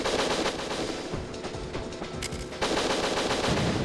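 Rapid bursts of automatic gunfire from the N64 shooter Winback, with loud dense volleys that briefly drop away near the middle, then resume at full strength to the end.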